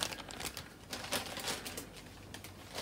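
Crinkling and rustling of a thin plastic bag packed around an action figure box, a steady run of crisp crackles handled up close, with no voices.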